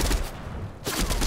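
Gunfire in the Fortnite battle royale game: a loud burst of rapid shots, a short gap, then another dense burst, close and alone with no talk.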